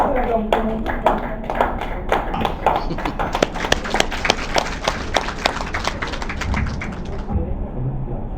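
Audience clapping in a dense, steady patter for Maman Nicole at an official launch event in Ghana, loud and close, with voices talking over the applause throughout before it thins near the end.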